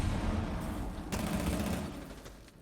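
Gunfire in the tactical shooter video game Rainbow Six, a dense burst of shots over a rumbling low backdrop with a sharper crack partway through, lasting a couple of seconds.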